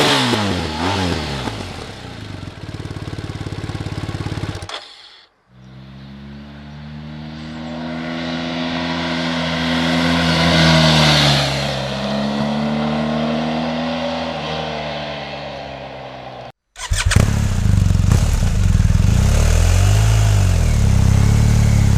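A BMW R1250R motorcycle engine pulls hard and loud, its note rising and falling through a long sustained acceleration, with a brief gap before it resumes, loud and close.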